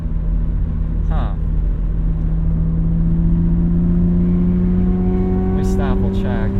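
A BMW E36 328i engine pulls steadily while driving, a low droning tone rising slowly in pitch as revs climb toward about 4,000. Road rumble sits underneath, and brief voices break in near the start and the end.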